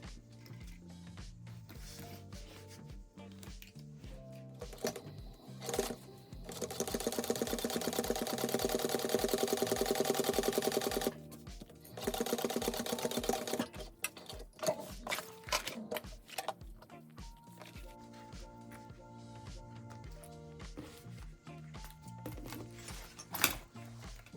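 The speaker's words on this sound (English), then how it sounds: "Now I'm going to baste this into place." A sewing machine bastes fabric into place on a handbag, a fast, steady stitching whir for about five seconds with a shorter run after a pause, surrounded by faint fabric handling and clicks, and no talk.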